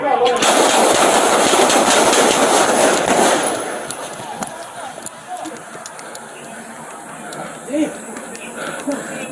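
A dense roar of gunfire and loud noise during a police shooting on a New York City street, strongest for the first few seconds and then fading into a lower mix of scattered sharp knocks and background commotion.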